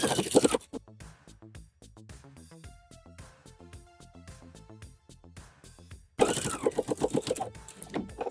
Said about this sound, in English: So now I'm adding that little top stitch to the bottom of the waistband.